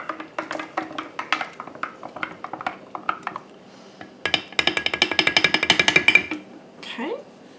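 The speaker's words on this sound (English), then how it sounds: "I'm going to stir my starter up." Sourdough potato bread starter stirred in a jar, a quick run of close clinking and scraping taps against the glass that speeds into a dense rattling burst near the end.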